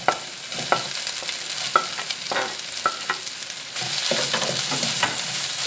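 Mixed vegetables stir-fried in oil with ginger and garlic for shrimp in white sauce, a steady loud sizzle punctuated by sharp spatula clacks against the pan at a quick irregular rhythm.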